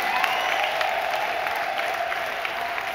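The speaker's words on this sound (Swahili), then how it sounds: "Mpigie Bwana Yesu makofi mengi." A church congregation claps together, a dense, steady patter of many hands that is fairly loud and sustained, with no one speaking over it.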